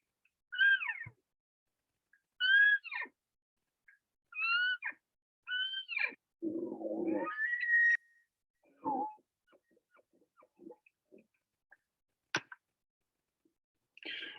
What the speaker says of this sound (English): you could hear somebody cow calling towards an elk during the rut